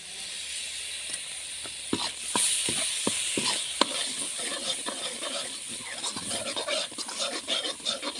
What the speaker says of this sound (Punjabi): ਹਲਦੀ ਦਾ ਮਸਾਲਾ ਬਹੁਤ ਵਧੀਆ ਭੁੱਜ ਰਿਹਾ